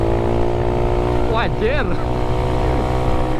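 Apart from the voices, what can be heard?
Yamaha Mio 150cc motorcycle accelerating on test ride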